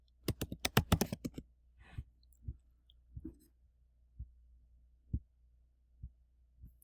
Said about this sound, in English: You have to type the right password, though.